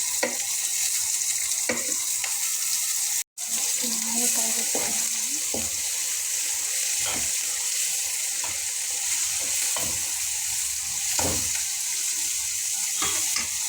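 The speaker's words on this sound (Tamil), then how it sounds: "பாருங்கள், வெங்காயம் நல்லா வதங்கி வந்துருச்சு." Onions frying in a pan with curry leaves while cooking a dal and bottle gourd dish, a steady close sizzle broken by several stirring scrapes and one brief silent gap, with no talking.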